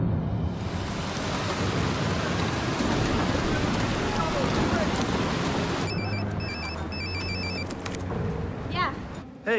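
A heavy rainstorm with thunder pours down loudly and steadily, then gives way around the midpoint to quieter sounds with faint electronic beeps and a closing rumble.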